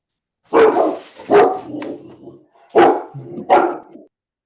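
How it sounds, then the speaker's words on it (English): Dogs bark outdoors in four loud, close bursts, each a sharp woof fading into a ragged tail, separated by short silent gaps. "dogs."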